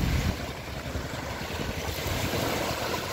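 Strong tidal water rushes through a river estuary at Muara Cengkrong, a steady loud broadband roar with wind buffeting the microphone, no voices present.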